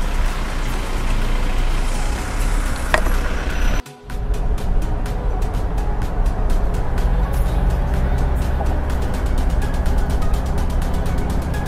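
An Isuzu Panther drives fast along a road in a steady loud engine and road roar, with a brief dip in the noise partway through before the roar resumes.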